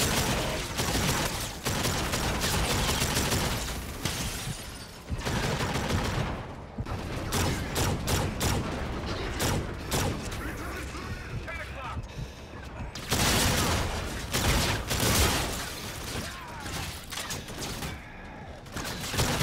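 Dense, loud shotgun blasts in the sci-fi shooter Call of Duty: Infinite Warfare, rapid booming shots with explosions and chaotic battle noise running nearly nonstop, with a few short lulls.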